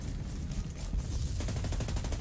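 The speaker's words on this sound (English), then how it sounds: "Freaking light machine gun all the way" Light machine gun fire in Ghost Recon Breakpoint, sustained and loud: a dense, heavy burst that shifts after a moment into a steady rapid rhythm of evenly spaced shots.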